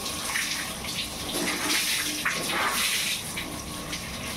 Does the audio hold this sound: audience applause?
no